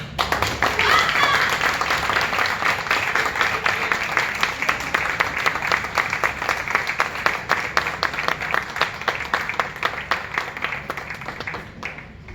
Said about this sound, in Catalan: rebam amb un fort aplaudiment